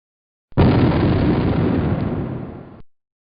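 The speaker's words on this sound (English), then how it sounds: "So, why did our watermelon explode?" A watermelon wrapped in hundreds of rubber bands bursts with a sudden loud, close blast that trails into a roaring, crumbling rush for about two seconds, then stops abruptly.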